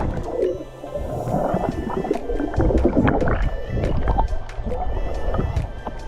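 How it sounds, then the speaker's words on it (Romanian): A small boat sets off across clear water on a Maldives island trip, its steady motor and water rumble running throughout beneath people talking. "acum pleacă barca"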